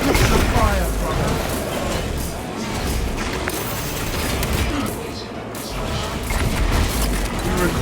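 Explosions and gunfire in a Warhammer video game, crack grenade blasts amid a continuous loud barrage of crashes, booms and rattling fire with no gaps.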